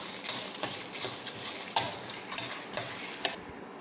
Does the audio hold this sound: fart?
no